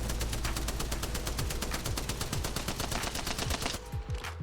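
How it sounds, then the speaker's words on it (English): The Spitfire light machine gun in Apex Legends fires one long sustained burst of rapid, evenly spaced shots, loud and close, with tinkling shell casings beneath, then cuts off near the end. "Onto the Spitfire. Now I know this one's got some crazy recoil. Let's see it without me holding anything."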